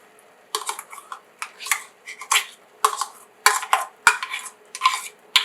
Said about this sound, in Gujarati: તેને આપણે ફટાફટ આ રીતે મિક્સ કરી દઈશું.